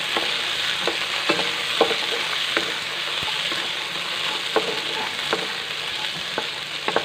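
Ripe red chillies fry in a pan for a tomato pickle with a steady, close sizzle and scattered sharp pops and stirring clicks throughout, no voices.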